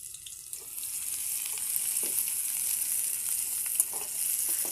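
Chopped onion goes into hot oil on a wood-fired stove for a rohu fish curry. A soft hiss builds after a brief quiet start into a steady frying sizzle with light scattered crackles.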